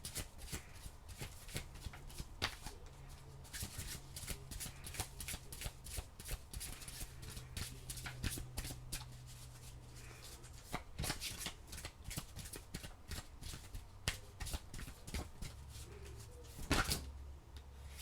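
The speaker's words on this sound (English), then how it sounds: "let me get your other oracle card here" Oracle cards are shuffled close up in a long run of soft riffling flicks and slaps, with a brief louder knock near the end and no talking.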